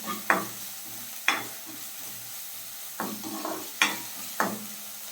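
Onion paste sautés in oil in a pan for chicken Mughlai, a low steady sizzle broken by five or six sharp, irregular scrapes of a spoon stirring. No one speaks.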